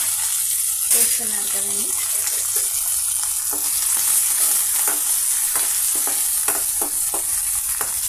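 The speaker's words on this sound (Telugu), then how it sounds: "పచ్చిమిర్చి, పెద్దల్లిపాయ పీసెస్, కర్రీ లీవ్స్, తిరగమాత గింజలు అన్నీ ఫ్రై అవుతున్నాయండి" Green chillies, onion pieces, curry leaves and tempering seeds fry in hot oil with a steady broadband sizzle and occasional stirring knocks, while someone talks briefly over it.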